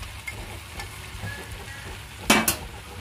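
Chicken pieces sautéing in a pan for restaurant-style chicken manchurian, a low steady sizzle with a sharper burst of stirring or scraping near the end; no talk.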